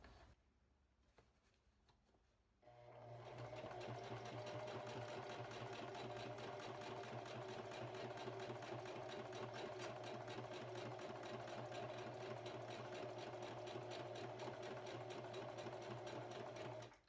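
A sewing machine runs steadily, top-stitching a zipper pouch closed: after a few quiet seconds of faint handling noise, a close, continuous mechanical whir with rapid needle ticking carries on to the end.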